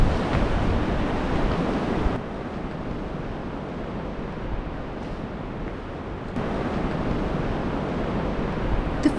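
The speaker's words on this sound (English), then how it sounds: "The fierce waves in this river mouth show how forceful Mother Nature can be." Fierce waves crash and churn in the Storms River mouth in Tsitsikamma National Park, a continuous loud roar of surf with wind, its intensity shifting slightly over several seconds, heard alone without voices.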